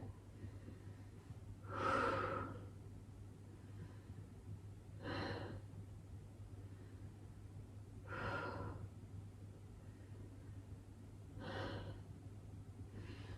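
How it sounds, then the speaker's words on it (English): Three slow, deep breaths during a yoga workout, each a soft, airy whoosh a few seconds apart, faint and close over a steady low hum, with no talking. "3 deep breaths here."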